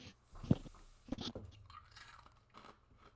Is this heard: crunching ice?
yes